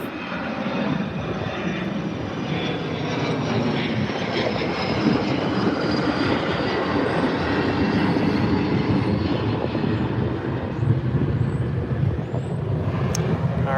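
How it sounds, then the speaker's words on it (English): An American Airlines jet taking off at Chicago O'Hare Airport, a loud, continuous engine roar that holds steady throughout, heard from a waiting area with no talk. "Another flight taking off from Chicago O'Hare Airport"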